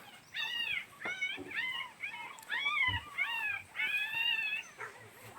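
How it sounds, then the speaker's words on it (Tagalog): A dog whines and whimpers in a series of high, wavering cries, close by and fairly quiet, with short pauses between each plaintive call. "ito yung aso mongkol"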